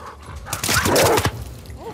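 Rottweiler dogs in The Last of Us Part II video game bark in a loud, close burst of several rapid barks over low game ambience, then fade out.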